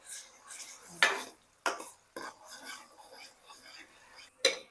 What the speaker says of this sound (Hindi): अब मैं इसमें टमाटर ऐड कर रहा हूँ।